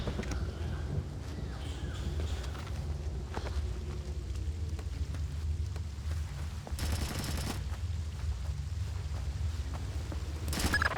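Distant sustained gunfire in Splinter Cell Chaos Theory, a muffled rattle of automatic shots under a low ambient rumble, with a louder burst partway through and no talk.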